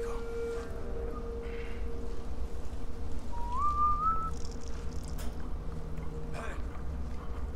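In Resident Evil 4, a single rising whistle cuts through for about a second, mid-distance, over a low outdoor rumble of the village with faint clatter around it.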